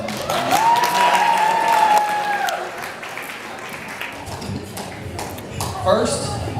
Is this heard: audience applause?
yes